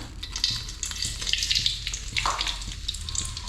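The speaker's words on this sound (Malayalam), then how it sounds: "അപ്പം നമുക്ക് കടു ഇട്ട് കൊടുക്കാം" Mustard seeds dropped into hot oil spluttering and sizzling, with crackling pops over a steady frying hiss, close up and with no talk.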